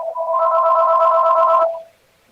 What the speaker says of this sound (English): I heard a phone ringing.